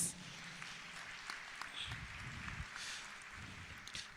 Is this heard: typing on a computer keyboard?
no